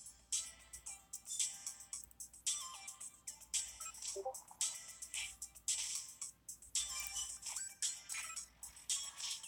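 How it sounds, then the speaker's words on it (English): A phone ringtone or notification chime plays repeatedly, bright, fairly faint tones sounding in a steady recurring pattern throughout. "Notification."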